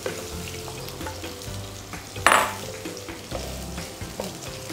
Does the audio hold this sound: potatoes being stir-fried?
yes